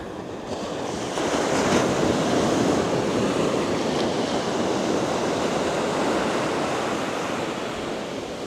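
Surf breaks steadily on a fishing beach, a continuous broad roar of waves with wind buffeting the microphone, loud and unbroken throughout with no voices.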